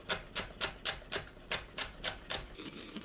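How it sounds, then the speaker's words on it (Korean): Knife chopping green onions on a cutting board while making a seasoned spinach side dish: about ten crisp, evenly spaced chops that slow slightly toward the end, close and clear with no talk. "파를 작게 썰어줍니다."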